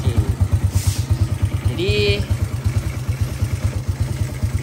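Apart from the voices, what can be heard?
Honda EX5 motorcycle engine idling after service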